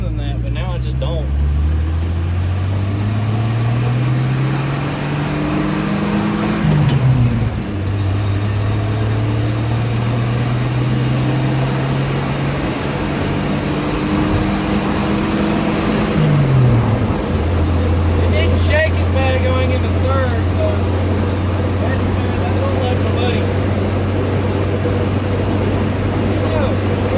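A Ford car with a 3-speed transmission idles after a transmission fluid change. The steady engine hum sits close, its pitch rises and dips several times before settling lower, and a voice talks over it.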